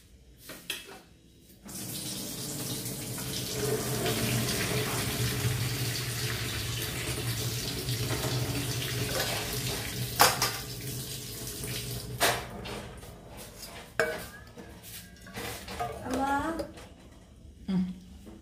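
Water pours steadily from cooked macaroni as it drains, a continuous splashing rush lasting several seconds before thinning into scattered drips and clatter, with people talking over it.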